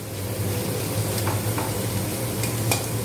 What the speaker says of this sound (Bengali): পেঁয়াজটা ভাজা হবে, একদম লাল হবে না, হালকা গোল্ডেন হবে।